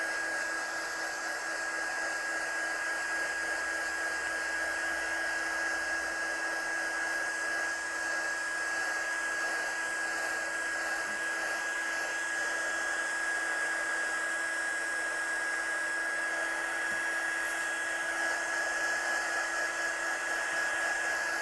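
Heat gun running steadily while drying ink for heat embossing on a craft project, a loud continuous whirring blow with a high whine, unchanging throughout with no talk.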